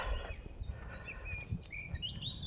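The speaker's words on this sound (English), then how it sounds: "listen to those birds" Birds sing and chirp outdoors, several faint whistled calls and short tweets scattered over a low background rumble.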